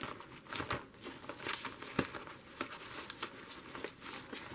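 Craft paper pulled from a scrap box is crinkled and crumpled up close, giving a steady stream of crackling and rustling bursts with one sharper crackle midway and no voices.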